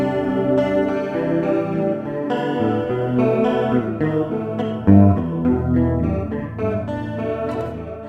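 An isolated electric guitar plays a riff through delay and ping-pong reverb, chugging palm-muted notes and ringing chords with echoing tails, no talk.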